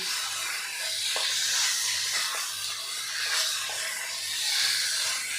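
Chicken sautéing in a pan for Kolhapuri chicken, a continuous soft hiss and sizzle with a few faint spatula clicks, close and steady.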